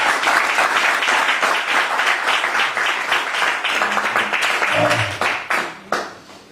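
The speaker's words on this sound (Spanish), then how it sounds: "Denle otro fuerte aplauso al Señor" A church congregation at an anniversary service gives loud, dense applause that fills the room for several seconds, then thins out to a few last claps.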